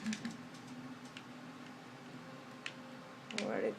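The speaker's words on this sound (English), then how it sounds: "Yeah, you hear that clicking sound." Faint, sparse clicks from a dispenser contraption in Minecraft on Xbox 360, fired with fire charges, ticking irregularly at low volume over a quiet hum and ending in a brief louder burst.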